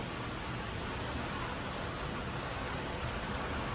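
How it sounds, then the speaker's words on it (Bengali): Heavy evening downpour in a city as people head home from work, heard as a continuous, even, broadband wash of rain, moderately loud and unbroken, with no voices. "আজকে ভারী বৃষ্টি হচ্ছে"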